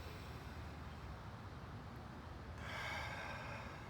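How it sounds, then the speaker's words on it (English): A slow, steady inhale drawn in through the nose during a relaxed breath and mobility stretching session, a soft airy hiss that swells toward the end, heard alone with no talking. "Breathing in through the nose."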